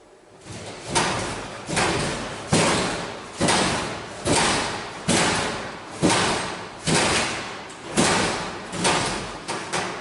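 A door in a school building in Ireland bangs again and again at about 3 a.m., roughly ten loud, evenly spaced slams that each trail off before the next, with no talk over them.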